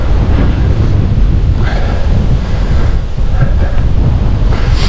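Strong wind blowing across open fields in Germany, a loud, constant roaring rush over the microphone, steady for the whole stretch with no talking.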